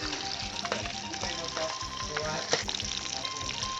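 Fish skin frying in hot oil, a dense, continuous crackling sizzle with small pops, close by and moderately loud.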